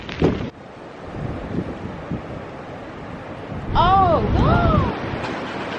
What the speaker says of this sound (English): the wind has picked up and there's a squall of rain that's lashing against us now